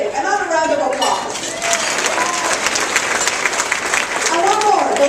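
Applause from an audience at a keynote luncheon, a steady dense clapping throughout with voices cheering and calling out over it.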